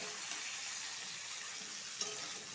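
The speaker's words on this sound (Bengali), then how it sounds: "হলুদ আর নুন দিয়ে একটু লাড়াচাড়া করবো।" Ridge gourd frying in a pan with turmeric and salt being stirred in, a steady broadband sizzle with one brief louder scrape or clink partway through, close and continuous with no talking.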